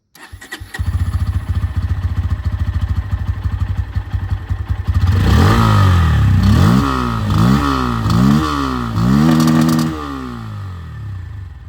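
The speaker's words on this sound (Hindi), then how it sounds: "अब हम लोग यहाँ पर अभी N160 को सुनने वाले हैं" A Bajaj Pulsar N160 motorcycle engine starting with a short crank, then idling in a steady close putter before several sharp throttle blips rise and fall in quick succession.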